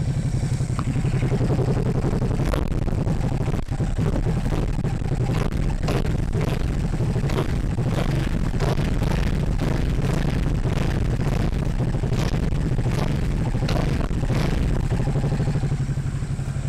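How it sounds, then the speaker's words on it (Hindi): A Ducati Supersport 950 S motorcycle idles steadily just after starting, a close, loud, continuous engine rumble with uneven mechanical clatter and occasional sharper pops throughout, with no talking. "और ये स्टार्ट हो गई bike. Now here the sound."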